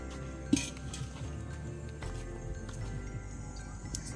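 A clay cooking pot for prawn biryani is set down on a kitchen stove with a single short, hard clink near the start, followed by a faint, steady background hum.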